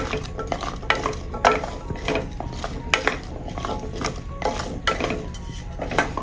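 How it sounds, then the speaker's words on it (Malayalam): Onions being stirred in a pan over medium heat, repeated scraping and clinking strokes of a spoon against metal in an uneven rhythm over a low sizzle, close and alone. "ഇനി ഇതൊന്ന് ഇളക്കി കൊടുത്ത് ഈ ഉള്ളിയെല്ലാം ഒന്ന് വാടി വരണം, അതുവരെയും ഒന്ന് ഇളക്കി കൊടുക്കാം."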